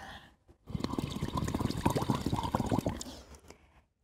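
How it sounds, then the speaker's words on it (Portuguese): Water poured over a baby during an infant swim class, a close, steady splashing pour lasting a few seconds after a brief quiet start, then tapering to a few drips. "E joga a aguinha por ele."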